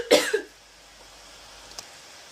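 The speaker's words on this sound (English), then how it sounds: "there's a bit of a cough fit going on" A person in a coughing fit gives a short burst of two or three close, loud coughs, then near silence with a faint click.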